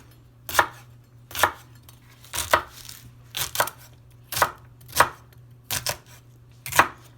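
Celery sliced with a knife on a cutting board, a series of about nine crisp, evenly spaced chops, close and clear over a low background hum.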